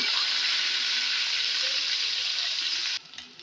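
Green chillies, mint and curry leaves hit hot oil for spicy tomato rice, producing a loud, dense, hissing sizzle that runs steadily and then cuts off abruptly near the end.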